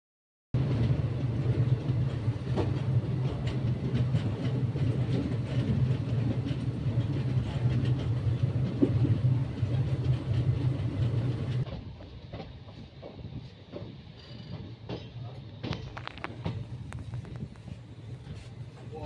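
The Pondicherry to Kanyakumari Express runs along the rails with a loud, continuous low rumble and rattling clatter, dropping to a quieter, lighter rolling noise with scattered clicks partway through.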